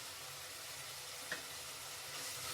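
Green chillies, crushed garlic and onion frying in a pan, giving a soft, steady sizzle with a single brief clink or stir partway through.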